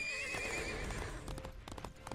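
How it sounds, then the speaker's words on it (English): Lone Ranger's horse Silver in Disney Infinity 2.0, heard in a Brave-themed toy box: a loud, wavering neigh is followed by quick clip-clop hoofbeats. "Riding around in a brave toy box on Lone Ranger's steed as Spider-Man."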